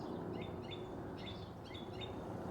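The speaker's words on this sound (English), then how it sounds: "You can hear the birds in the background." Birds singing outdoors in the background, repeated high chirps and short warbling phrases over a low steady ambient hum, fairly faint and with no talking.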